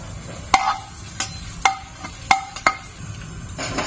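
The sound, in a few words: frying dry red chillies in oil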